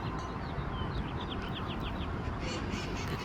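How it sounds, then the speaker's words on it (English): Green parrots call from trees outside a home in Redondo Beach, California, a run of quick squawks over a dense, steady background roar. "the green parrots have started coming to our trees right here"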